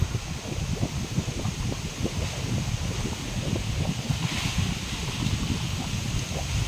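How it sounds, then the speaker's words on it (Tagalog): Strong wind buffets the microphone in a constant, rough roar, with low gusty rumbles and no voices. "Lakas ng hangin, grabe."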